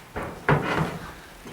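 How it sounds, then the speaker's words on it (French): Knocks at a door from the governor's envoys, heard as a short sequence of hard wooden thumps, one louder knock standing out, close and distinct with no talking. "Tout à coup, les envoyés du gouverneur frappent à la porte."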